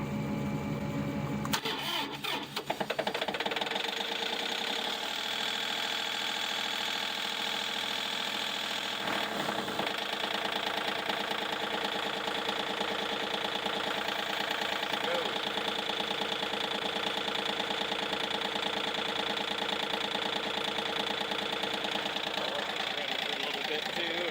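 A 1986 Chevrolet C20 pickup engine cranks on jumper cables, catches, and settles into a steady, fairly close idle that runs on alone with faint background noise.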